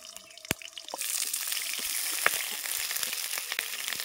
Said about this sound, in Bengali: এবার আমি পটলগুলো দিয়ে দেব আর ভালো করে ভেজে দেব।